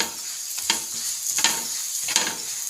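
An egg paratha sizzles in oil on a pan after being flipped. The frying hiss is bright and steady, with three soft rhythmic scraping strokes, and no one speaks.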